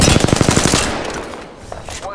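Loud, close automatic gunfire in Apex Legends, a rapid burst of about a dozen evenly spaced shots that stops abruptly, followed by fading echoes and a couple of faint clicks.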